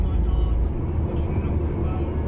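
Inside a car driving to a picnic in Ankara, a loud low engine and road rumble fills the cabin steadily, with faint higher noises drifting in and out.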